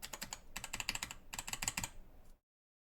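Rapid clicky keystrokes on a CK552 full RGB mechanical gaming keyboard, typed in two quick bursts with a short pause between, close and crisp, ending in silence.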